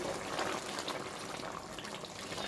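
A pot of small fish curry simmers steadily, a soft continuous bubbling and gurgling that stays quiet and even throughout.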